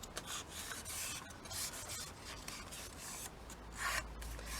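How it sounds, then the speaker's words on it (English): Paper folded and creased along a scored line for a sewn junk journal, a steady soft rubbing and rasping that runs throughout at close range, with a slightly louder scrape near the end. "I'm going to fold it along this line."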